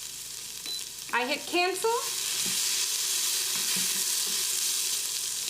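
Garlic sautéing in an Instant Pot's sauté function, a steady broadband sizzle throughout, with a brief spoken phrase near the start and light stirring clicks underneath.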